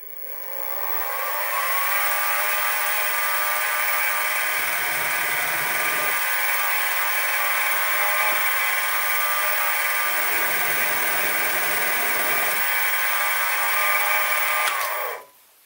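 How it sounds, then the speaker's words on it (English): A steady high-pitched whirring drill on a Sieg SC3 mini lathe runs continuously, with faint low grinding bursts as a 3 mm bit cuts into metal, then spins down at the end. "Then I'll replace the centre drill with the 3 millimeter drill bit and drill"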